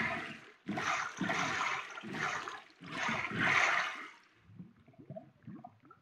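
Rushing river water in Minecraft pours in several loud surges, then fades to a quieter trickle with small splashes and gurgles near the end.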